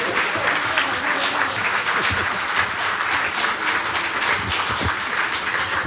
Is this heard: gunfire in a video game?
no